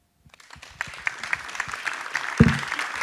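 Applause from an audience at a French public meeting on food waste, honoring the mayor of Courbevoie: scattered claps start thinly, then build into fuller, louder clapping with a sharp peak near the end.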